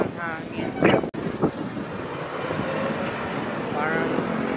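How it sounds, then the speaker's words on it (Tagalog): Strong wind buffeting the microphone, a steady rushing roar throughout, with people talking briefly over it near the start and end. "Wow, lakas ng hangin."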